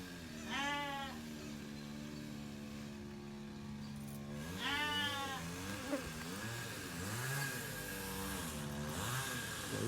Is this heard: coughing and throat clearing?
no